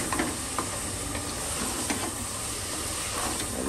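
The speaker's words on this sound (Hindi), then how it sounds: "ये सब मसाले भी हम इसी में डाल देंगे। बिस्मिल्लाह, मसाले डालकर भी भून लेते हैं।" Minced meat sizzles in a pan with mutton masala powder and turmeric for aloo keema curry, a steady close frying hiss with occasional scraping stirs.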